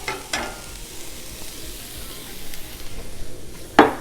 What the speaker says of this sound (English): Oh yeah, get that sizzle going.